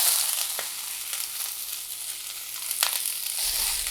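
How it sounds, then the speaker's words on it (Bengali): Coriander leaves frying in a pan, giving a steady, close hiss of sizzling oil across the whole stretch with a few soft crackles and stirring clicks, and no voices. "এবার আমি ধনিয়া পাতাগুলো একটু ভেজে নিব।"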